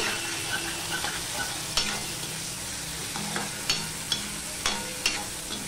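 Urad dal with sugar being stirred in a hot pan, a soft sizzle running throughout under repeated spoon scrapes and knocks against the metal, close and moderately loud, with no talking.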